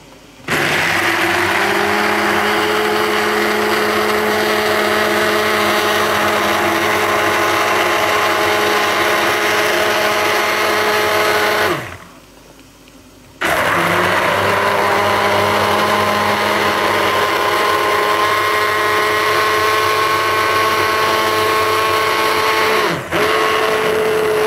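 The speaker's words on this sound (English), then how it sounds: "blend the porridge straight in the saucepan that I'm going to use to cook it with" A hand blender whirs loudly and steadily as it purees peanut porridge directly in a saucepan, stops for about a second midway, then starts again and runs to the end.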